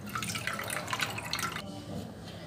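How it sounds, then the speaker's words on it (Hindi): Cold water poured over freshly made paneer (chenna) for rasgulla, a steady splashing, dripping stream that runs for most of the moment and then eases off, with no one talking over it. "इसको नीचे से ऊपर पलटा लेंगे और पानी डाल के इसको ठंडा कर लेंगे।"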